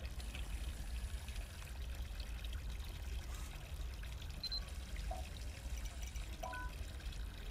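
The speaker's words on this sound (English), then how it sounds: "Water." Water pours and trickles steadily in the horror video game Captured, a faint continuous splashing stream with a few small drips, heard alone.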